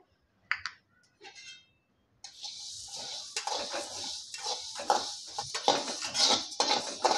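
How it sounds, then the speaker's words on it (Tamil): Whole coriander seeds dry-roasting in a kadai, with a steady dense rattle and crackle of seeds against the metal pan and sharper clicks of stirring, after a few brief knocks at the start. "இப்போ நான் மல்லியை சேர்த்து வறுத்துக்கிறேன்"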